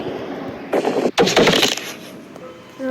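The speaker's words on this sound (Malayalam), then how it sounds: "ഗുണമൊന്നുമില്ലേ, വെറുതെ വെടി വെക്കുന്നു." Gunfire in the horror video game Granny Chapter 2 Reimagined: two short, loud, close bursts of shots less than a second apart, then quiet game ambience.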